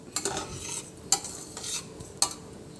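Sira rava semolina roasting in oil in a pan, soft sizzle under a stirring spoon that scrapes and taps the pan three times at irregular gaps, close and fairly quiet without speech.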